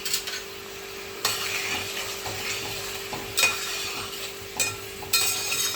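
Chili chicken sauce with vegetables and a little sugar bubbles in a pan with a constant hiss, punctuated by several loud scraping stirs and metal clinks of a spatula; close, no speech.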